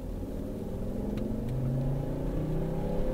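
Volvo V60 plug-in hybrid with a six-speed automatic and an electric motor accelerating in power mode, heard from inside as a steady engine drone and road hum that rises gently over a few seconds, no talking.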